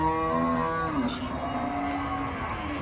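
A Jersey cow lets out a single long, drawn-out moo at a cattle market, fairly close and clear over a soft background murmur, with no talking.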